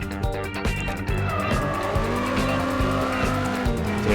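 A car in the Turbo Dismount 2 video game drives with loud, sustained tire squeal and skidding over a revving engine, continuous and close throughout.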